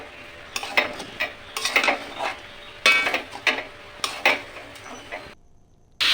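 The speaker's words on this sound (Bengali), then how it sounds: "ভালো করে নাড়াচাড়া করে নিচ্ছি যাতে হলুদটা পুরো মিশে যায়।" A spoon stirs vegetarian khichuri with turmeric in a pot, giving a run of close scraping, clinking strokes in uneven bursts over a soft sizzle, then a short pause near the end.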